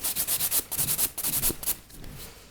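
A nail file rubs over gel nails in quick repeated back-and-forth strokes, a close, scratchy rasp in short bursts with brief pauses, fading to lighter strokes at the end, with no talk.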